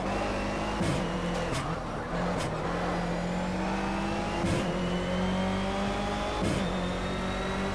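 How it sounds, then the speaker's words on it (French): A loud racing-car engine in Project CARS roars continuously, pitch climbing and dropping through gear shifts, with brief bursts of noise from bumps or skids along the way. "Écoutez-moi ce bruit de moteur"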